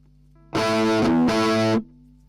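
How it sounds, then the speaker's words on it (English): Two heavily distorted guitar chords from preamp distortion ring out back to back, buzzy and saturated, loud and close, then cut off to a low hum. "Get some of that gnarly distortion."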